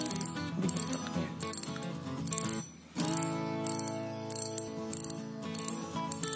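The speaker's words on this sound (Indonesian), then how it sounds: "kita coba dengar dragnya putar" The drag of a Seaknight 4000H spinning reel clicks rapidly as the spool turns, a loud, close metallic ratcheting in several bursts separated by short pauses.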